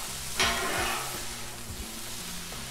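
Ham, onion and hash browns sizzle on a Blackstone griddle, a steady close hiss with a spatula scraping at the start and light tapping and clicks throughout.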